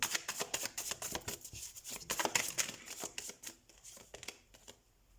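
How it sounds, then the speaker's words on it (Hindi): Tarot cards shuffled by hand in a quiet room, giving a run of quick, soft riffling flutters and taps that tail off toward the end. "तो हम कार्ड शफल कर लेते हैं।"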